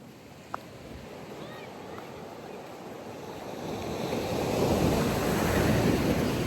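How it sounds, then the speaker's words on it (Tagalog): Loud ocean surf washes onto a shore, a steady broad roar that swells louder toward the end, with wind buffeting the microphone and a brief faint voice early on. "kasi ang ingay ng alon"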